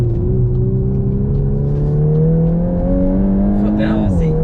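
A VW Golf R MK8 accelerates hard, its engine note climbing steadily in pitch, loud and close from inside the cabin, then easing off near the end.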